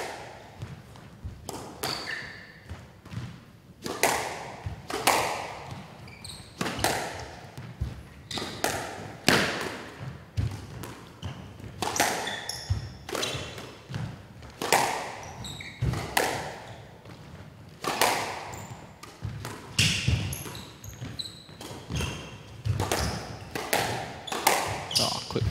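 A squash ball hit during a fast rally in a Premier Squash League university match, a rapid series of sharp thwacks and court-wall thuds coming every second or so, with faint crowd and court ambience between shots.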